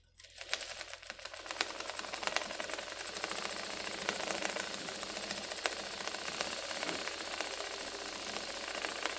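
A domestic automatic sewing machine stitches fabric with a steady, fast mechanical whir and rapid clatter, running continuously and close up without talk.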